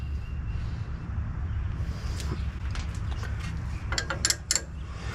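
Low mechanical rumble with a few sharp metallic clicks and ratcheting ticks near the end as a wrench works on the brake caliper bolts of a Ford Expedition.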